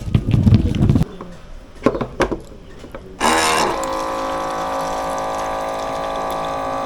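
Water is poured into a pot while cooking ginataang bilo-bilo: a low splashing gush, then a few knocks, then a steady, ringing filling sound that holds to the end.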